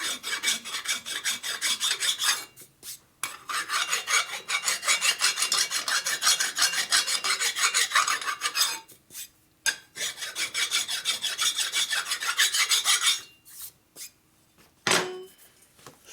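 Steady, close rasping of a cutter working the valve seats of a 1200 Harley Sportster XL cylinder head, long continuous scraping strokes broken by a few brief pauses, loud and alone.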